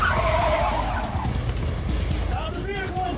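A car skids with tire squeal during a DEA takedown, a loud rush of tire noise over about two seconds, with voices talking over it.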